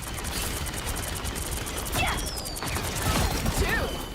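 Rapid automatic gunfire rattles continuously in the Marvel Rivals shooter game, a dense fast stream of shots with mechanical clatter and occasional sharper impacts, loud and close, with game voice effects flickering through.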